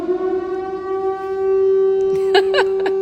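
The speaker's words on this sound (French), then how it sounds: "Qu'est-ce que c'est que cette sirène?" A siren sounds from outside while the listener is inside a church, a steady, sustained tone holding at even loudness throughout, with a few brief higher chirping sounds near the end.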